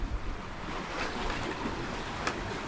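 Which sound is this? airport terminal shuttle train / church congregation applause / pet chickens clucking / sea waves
sea waves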